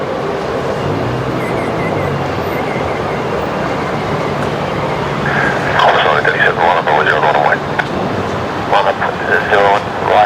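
Link Airways aircraft takes off from runway 01 right at Brisbane Airport, a distant engine roar swelling in the second half beneath ongoing talk.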